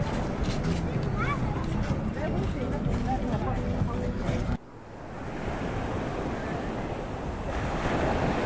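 Ocean waves wash onto a beach at Puerto Vallarta, Mexico, a steady broad surf roar with wind buffeting the microphone, the level dipping midway and then building back up.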